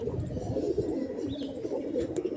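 Black diamond pigeons, a male and female pair kept as pets at home, cooing softly and continuously over a low murmur of background noise, with a few faint chirps from other birds higher up.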